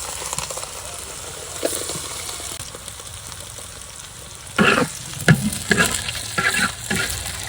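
Spice tempering fries in a pan in a village kitchen, a steady sizzle broken by several louder scraping stirs near the end, close and without talk.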